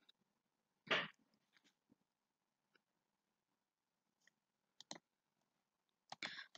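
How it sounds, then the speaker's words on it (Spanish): Several sharp computer mouse clicks, one louder near the start and others scattered and faint, in a quiet room while a blank database is opened on screen. "vamos a darle clic a una base de datos en blanco"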